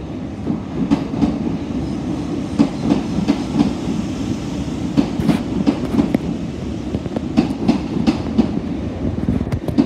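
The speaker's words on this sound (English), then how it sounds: "The approaching train is not scheduled to stop at this station." A train runs through St Denys station, its wheels beating a steady clickety-clack over rail joints with a continuous low rumble, close by and without talk.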